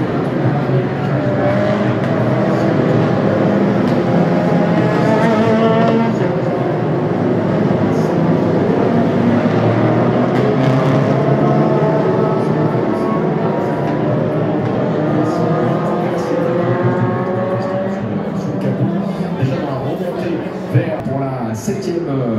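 Race cars at a standing start of a Le Mans club race for Furyo and Group A saloons, engines droning together as a steady roar heard from some distance beneath continuous commentary.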